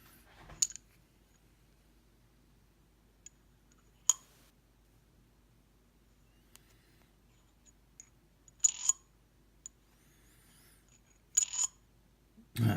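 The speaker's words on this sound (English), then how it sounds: "I'll do a chamber test and I'll stick that guy in there" A 9mm reloaded round dropped into a pistol barrel for a chamber test makes several crisp, close metallic clicks and clinks scattered through an otherwise quiet room, some coming as quick doubled taps.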